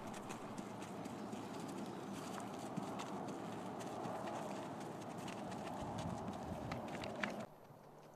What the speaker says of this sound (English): We had Michelle demonstrate each gait or speed twice around the arena